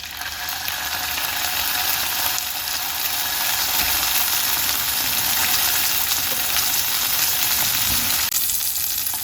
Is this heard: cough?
no